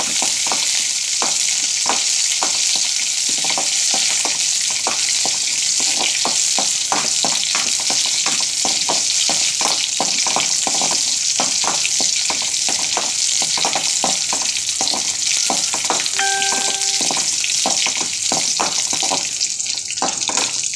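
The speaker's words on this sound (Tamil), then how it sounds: "வெள்ளைப்பூடு, வெந்தயம், கொஞ்சம் வெந்தயம் இதெல்லாம் போட்டு தாளிச்சிக்கலாம்." Garlic, fenugreek and curry leaves tempering in hot oil for a fish curry, a loud continuous crackling sizzle throughout with rapid popping and spatter, no talking.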